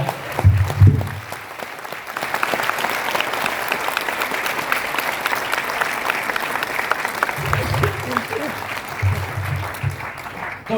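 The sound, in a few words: audience applause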